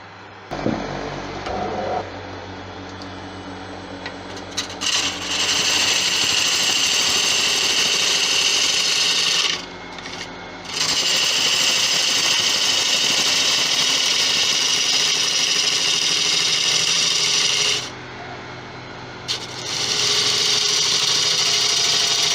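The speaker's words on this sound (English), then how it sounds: "I'm going to start cutting resin in a second" A lathe tool cuts resin set into a tigerwood bowl on a wood lathe, giving a loud, steady grinding hiss that runs continuously and breaks off briefly twice before starting again.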